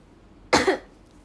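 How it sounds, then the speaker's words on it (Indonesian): A single sharp cough, close and loud, with a short follow-up burst, then quiet. "Cara batuk yang benar"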